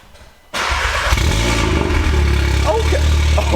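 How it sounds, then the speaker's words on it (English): An Audi S3 with a straight-piped stone exhaust and downpipe and no exhaust tips cold-starts after a brief quiet moment, catching with a sudden loud burst and settling into a deep, rumbling high idle with some revving throughout. "this is a cold start on an Audi S3 with a stone exhaust with a downpipe as well, with no exhaust tips"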